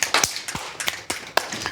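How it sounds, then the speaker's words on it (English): Sharp percussive hits in an uneven rhythm, about six of them over a short stretch, fit alternating hand claps and finger snaps. They sound close and fairly loud, with no talking. "I gotta snap and clap and snap and clap"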